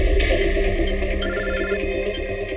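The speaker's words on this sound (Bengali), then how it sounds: "যে কোনো সময় ওদের ফোন আসতে পারে।" A telephone rings loudly and close, a bright electronic trill repeating in bursts with no voices over it.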